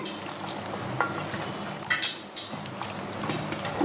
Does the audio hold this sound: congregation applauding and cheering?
no